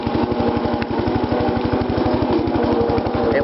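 An old, worn tractor engine running steadily nearby, a loud rapid chugging pulse at an even rhythm throughout, with no voices over it.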